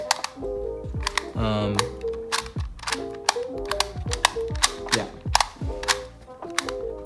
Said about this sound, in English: So let's just shuffle this up.